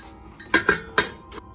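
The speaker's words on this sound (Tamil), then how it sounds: "இட்லி பாத்திரம் வச்சுட்டு அதில் தண்ணி விட்டுட்டு" Metal idli steamer pot set down on a kitchen stove, giving several sharp clanks and clinks of cookware spaced over a second or so, close and fairly loud with no talking.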